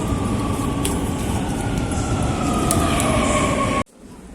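Metro train at Monti Tiburtino station in Rome, a steady loud rumble with a high whine running almost four seconds, then cutting off abruptly into near quiet.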